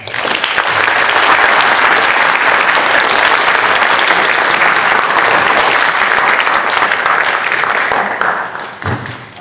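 Sustained audience applause for All-A honorees at an eighth-grade academic honors ceremony in a middle school, a dense steady wash of many hands clapping that fades near the end.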